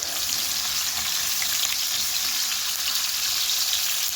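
Onion wedges frying with potatoes in a cauldron, a loud, dense, continuous hiss of hot fat close by with no talking over it.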